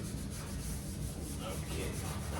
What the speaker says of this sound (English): I'm going to just go ahead and scuff the whole thing here.